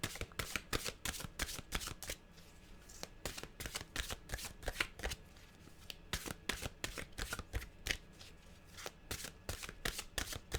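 Mantra cards are shuffled in quick, crisp riffling bursts, repeated rapid papery flutters and taps close to the microphone and fairly quiet, with no talking.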